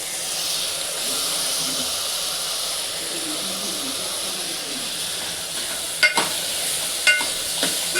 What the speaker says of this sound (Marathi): 2-3 मिनिटं कांद्यातच परतून घ्यायचे।